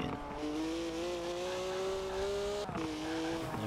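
A car in the Forza Horizon racing game cruises with a steady engine drone and a crackling exhaust. There is a brief pop-and-crackle break partway through, and no voices.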